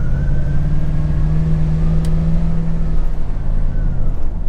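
Ford F-150 pickup truck driving, a loud, steady engine drone with low road rumble from inside the cab, a brief tonal whine partway through, no voices.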